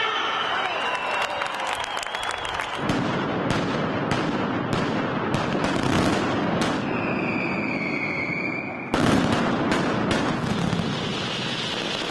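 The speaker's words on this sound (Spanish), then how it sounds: "la entrada al balcón del ayuntamiento para que disparen la mascleta" A mascletà firecracker barrage fired from the Valencia city hall balcony during the Fallas: a dense, loud, continuous roar of rapid bangs and crackling, with sharp louder blasts and a whistling rocket, crowd noise mixed in.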